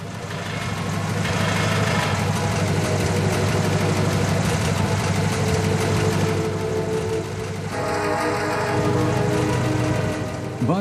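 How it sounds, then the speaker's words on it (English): A carbureted eight-cylinder engine in a DeSoto Airflow idles with a steady, low, even rumble, moderately loud and continuous, with a slight shift in tone partway through. "The carbureted engine is surprisingly quiet."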